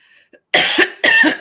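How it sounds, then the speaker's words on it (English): Two sharp, forceful coughs close by, one after another, following a brief quiet moment. "And it started coming out as a cough"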